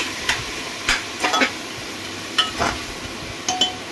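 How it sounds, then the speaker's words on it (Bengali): A spoon stirs green chillies, chopped tomato and ground cumin in a pan, giving a few soft scraping strokes and light clinks at irregular intervals over a faint sizzle. "দিয়ে দেবো এর মধ্যে 1 চামচ জিরে গুঁড়ো দিয়ে এবার এটাকে একটু নাড়িয়ে চাড়িয়ে নেব"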